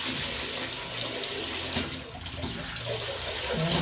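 Water gushes from a tap under strong pressure in a bathroom, a steady loud hissing rush that continues unbroken, with faint voices in the background.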